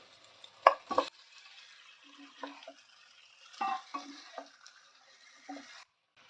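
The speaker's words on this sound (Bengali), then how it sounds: "এবারে ভেজে রাখা চিকেনটা দিয়ে আমি কষাবো" Fried chicken stir-fried with ginger, garlic and onion in a pan, giving scattered scraping and clanking stirs over a faint sizzle, fairly quiet with gaps between strokes.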